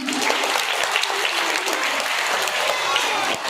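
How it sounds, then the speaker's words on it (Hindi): Thunderous audience applause at a Krishna–Sudama story performance, a dense, loud, sustained roar of many clapping hands with faint voices mixed in. "एक बार बहुत जोरदार तालियां बजाइए।"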